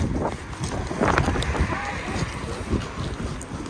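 Wind buffets the microphone in a steady roar, with gusty rumbling throughout and no clear voices.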